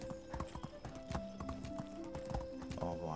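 Hooves clip-clopping from a horse in Medieval Dynasty, a rhythmic series of hollow knocks with a faint whinny, over soft game ambience.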